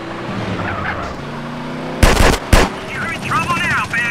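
Drive-by gunfire in GTA San Andreas from a BMW M5 E60 police car mod, two short loud bursts of shots over a running engine hum, with voices talking before and after.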